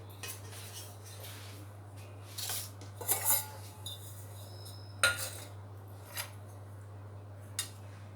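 A metal cooking vessel is handled and greased with oil or ghee while making dhokla, bringing scattered clinks, scrapes and taps of metal over a low steady hum, with no talking.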